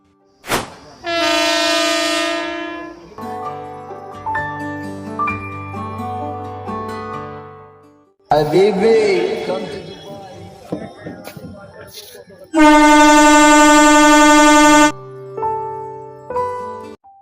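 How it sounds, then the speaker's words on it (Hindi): A train pulls in to a station and sounds its horn in two loud, sustained blasts separated by rumbling and clattering, with musical tones mixed between them. "ट्रेन कितनी लेट पहुंचाती"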